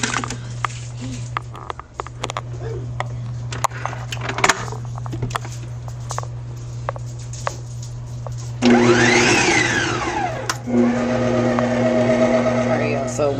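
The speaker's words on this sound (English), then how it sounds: "we're going to beat that butter that's been sitting out at room temperature" An electric mixer starts up partway through, beating room-temperature butter in a home kitchen with a loud, steady whirr that shifts pitch as it runs, after a stretch of quieter background hum.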